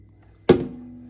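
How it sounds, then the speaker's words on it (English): A semi-hollow guitar knocked against other guitars, producing a single close hollow thunk with a short woody ringing decay. "Semi-hollow, and I'm banging it against other guitars."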